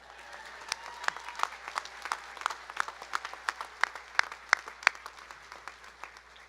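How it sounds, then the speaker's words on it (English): Sparse, moderate applause from a modest group at a university commencement ceremony, individual claps distinct and fairly close, with a faint murmur of voices underneath. "I think we should clap for this one"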